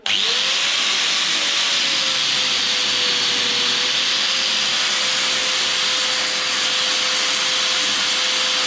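A power tool cutting through the struts of a Harley-Davidson Sportster during a scrambler build, a loud continuous high-pitched whine that holds steady for several seconds without pause.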